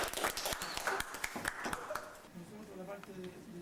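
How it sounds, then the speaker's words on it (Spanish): Brief applause from a small group at a university process-control project demonstration in Viña del Mar, with scattered claps that thin out after a couple of seconds as voices take over. "Un aplauso también."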